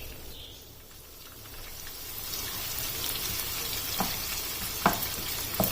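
Onions dropped into hot oil with black pepper, cloves, black cardamom and cinnamon for mutton karahi, a sizzle that builds and grows louder, with a few stirring knocks toward the end.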